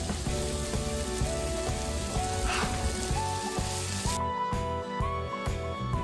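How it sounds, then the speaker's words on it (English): Mushrooms frying with chili powder, coriander powder and fried onion paste for a mushroom biryani, a steady dense sizzle running throughout alongside music, with a brief stir partway through. "Keep frying the mushroom until the moisture oozes out"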